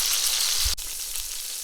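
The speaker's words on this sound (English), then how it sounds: "we'll get that other side seared and go from there" Antelope shoulder blade meat sears in a hot pan with a steady, close sizzle and crackle, a brief thump partway through, then the frying hiss continues evenly.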